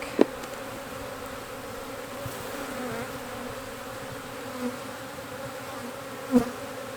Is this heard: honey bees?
yes